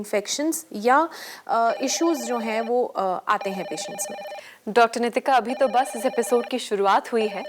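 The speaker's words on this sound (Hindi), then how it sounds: "पर फोन कॉल्स आना, जैसा कि आप सुन पा रहे होंगे, शुरू हो चुके हैं।" A telephone rings with an incoming call during a Hindi health phone-in show on skin problems from high blood sugar, the repeated ringing running under a continuous spoken voice.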